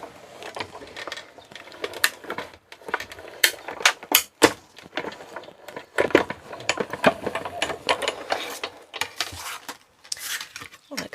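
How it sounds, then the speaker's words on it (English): Die cut machine cutting stamped card pieces for a pansy card, a rapid run of sharp clicks and taps with rattling mechanical crunches, fairly close and moderately loud, with brief pauses between bursts. "we're just going to run those through the die cut machine"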